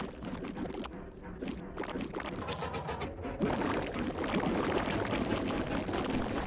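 Water being scooped in a Nintendo Switch 2 game, with a steady pouring, sloshing splash that runs continuously and grows louder partway through, with no talk over it.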